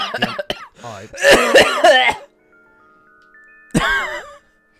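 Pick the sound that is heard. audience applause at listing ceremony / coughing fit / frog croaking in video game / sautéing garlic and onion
coughing fit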